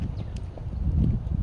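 A horse canters with a flag rider during desensitization training; dull hoofbeats thud in an uneven repeating rhythm against low rumbling ground noise, moderately close.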